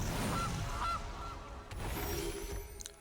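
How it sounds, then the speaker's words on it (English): A goose honks a few times in quick succession, moderately loud, over a steady busy background. "Goose."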